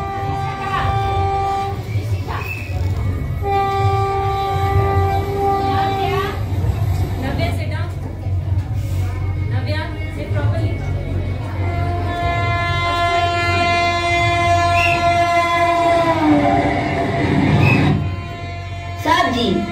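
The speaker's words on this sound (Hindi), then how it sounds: "जवान अब सुबह ट्रेन में बैठ रहे हैं" Recorded train sounds play in a school army play, with repeated horn blasts over a steady rumbling of rolling wagons, loud and continuous, and voices speaking over them.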